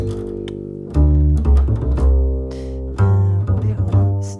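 Deep bass notes move in a short walking figure, circling around a target pitch with a few plucked steps, played alone at close range.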